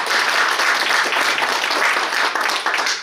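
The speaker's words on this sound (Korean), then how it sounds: "격려의 박수 부탁드립니다." Audience applause at a founding assembly in Korea: a continuous wash of clapping from a crowd, moderately loud and steady for a few seconds, with no clear voices on top.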